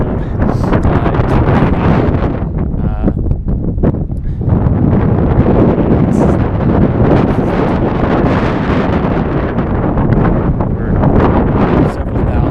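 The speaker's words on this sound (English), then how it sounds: "I'm sure you can hear the wind." Strong gusty wind on a cold mountainside several thousand feet up buffets the microphone with a loud, continuous roar that swells and eases briefly, drowning out everything else.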